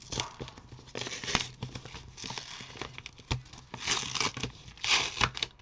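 A paper envelope is torn open by hand, a close run of ragged ripping and crinkling in uneven bursts over several seconds, with little else around it.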